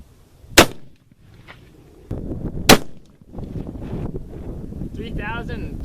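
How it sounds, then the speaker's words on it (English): Two sharp, loud 7mm Remington Magnum rifle shots fired with a lead-free Barnes load, about two seconds apart, each a sudden broadband crack with wind noise and low rumble between them and some talk afterward. "Now we'll shoot our first test load."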